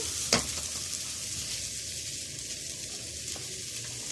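Water hits hot oil in a pot with a sharp hiss, settling into a steady, soft, close sizzle and crackle that carries on alone without talk.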